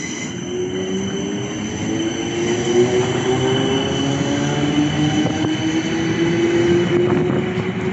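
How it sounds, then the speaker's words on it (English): A South Western Railway Class 455 electric train pulls away from Clapham Junction, a steady rising motor whine with wheel squeal and rail rumble, close and alone. "South Western Railway service to London Waterloo. Calling at Vauxhall and London Should be Waterloo. departing now."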